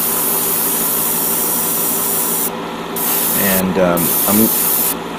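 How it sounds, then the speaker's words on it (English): An Iwata Neo CN airbrush sprays paint in a steady close hiss, with a brief pause partway through, while a voice talks briefly over it. "This is going to be my primary color airbrush"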